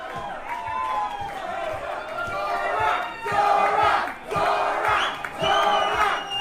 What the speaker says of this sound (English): Celebration erupts.